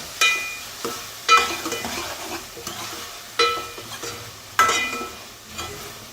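Varan phal dal cooking in a pan while a spoon stirs it, with repeated scraping strokes and clinks against the metal over a soft sizzle, close and fairly loud.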